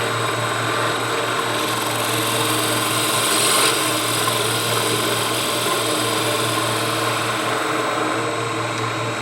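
A wood lathe hums steadily while a gouge cuts beads into the spinning workpiece, producing a continuous, close rasping hiss over a low motor drone with no pauses.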